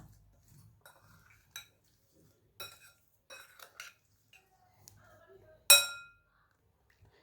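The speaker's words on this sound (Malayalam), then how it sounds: "ഈ ഇനത്തിലോട്ട് ഉപ്പിട്ട് കൊടുക്കാം. നല്ലോണം ഒന്ന് മിക്സ് ചെയ്യുക." Salt is mixed into quartered lemons for lemon pickle, giving sparse light clinks and scrapes of a utensil against a bowl, with one sharper clatter near the end, quiet and close with no talking.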